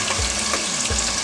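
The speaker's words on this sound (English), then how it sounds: "You hear that sizzle? That's what you want." Hot dogs frying in hot oil, a loud, close, continuous crackling sizzle filling the whole moment with no voices.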